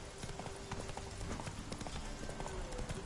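In the video game The Witcher 3, a horse's hooves gallop in a quick, rhythmic clip-clop. The sound runs steadily throughout at a fairly quiet level within the game's ambient sound.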